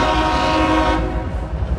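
A CSX freight train passes a railway crossing, its horn blaring loud and steady over a heavy, continuous rumble of rolling cars.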